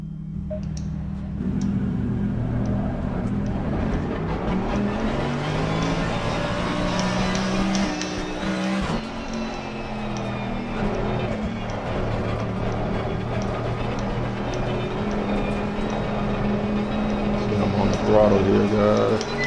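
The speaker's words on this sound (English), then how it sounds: "you can see that the car is very drivable and maneuverable with a setup, a good setup" Race car engine from a racing video game driven on a controller, a steady loud revving drone with shifting pitch running the full length, without pause.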